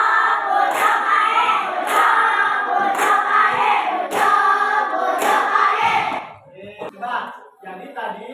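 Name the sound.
classroom children clapping hands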